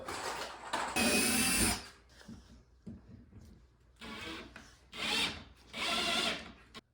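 Power drill driving screws into a French cleat on a concrete wall: several loud whirring bursts of one to two seconds each, with pauses and quieter handling noises between them.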